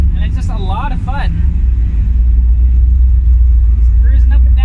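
A 1981 Ford Mustang cruises from the driver's seat, a steady loud low engine drone and road rumble running throughout while someone talks over it early on.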